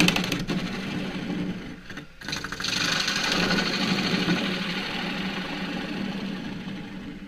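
A wood lathe spins a claret ash natural-edge bowl blank at about 850 RPM, giving a steady, close mechanical hum with rhythmic vibration and a brief dip before it resumes.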